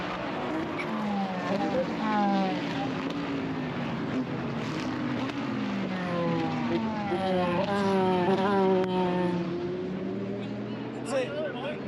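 Race cars roar off the start at Petit Le Mans, a dense pack of high-horsepower engines rising and falling in pitch as they pass, loud and continuous with braking and revving layered throughout.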